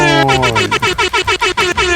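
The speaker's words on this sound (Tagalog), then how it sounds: "Yon, the horn. The horn. The horn" A loud air horn blares, first as a long sustained tone, then in a rapid series of repeated short pulsing blasts.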